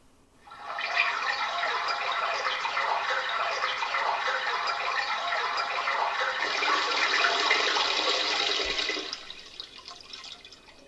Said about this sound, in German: Wasser nachfüllen.